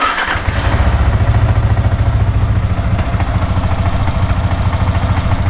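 A motorcycle engine with a fault kicks into life and runs steadily, a loud close rumble with a rhythmic clattering knock throughout and no talking.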